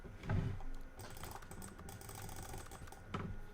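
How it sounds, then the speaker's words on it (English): Quiet, rapid clicking of a computer keyboard sounds as in-game typing, a soft irregular patter of keystrokes with a couple of slightly stronger taps, heard alone without talking. "Every time I click, it's like a computer typing board."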